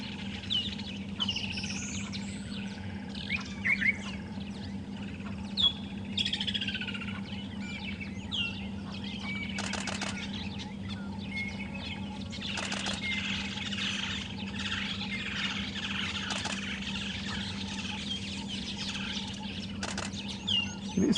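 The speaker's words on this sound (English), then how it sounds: "They are seed-eating birds, the weavers" Weaver birds call from nearby bushes on a sunrise safari drive, a busy overlapping chorus of chirps, chatters and rising whistles over a low steady hum, with occasional wing flaps and sharp clicks.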